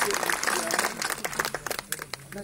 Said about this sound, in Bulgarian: да го наградим с нашите ръкопляскания и да му благодарим